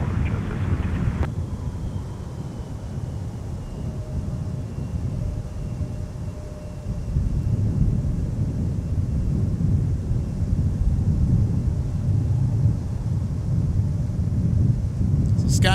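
A SkyWest Embraer 175 LR airliner taking off from the Minneapolis–St. Paul airport, a broad, steady jet roar that swells slightly and holds loud, mixed with wind rumble.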